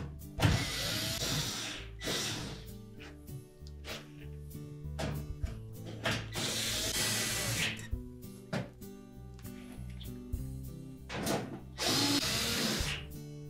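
A power drill drives mounting screws back into a Samsung range panel. Loud, close whirring bursts start and stop repeatedly with short gaps, and no one talks.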